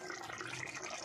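Half a cup of water poured into a pan of sautéed mixed vegetables with fenugreek while cooking a vegetable curry, a steady splashing, gushing pour lasting about a second, close and fairly loud.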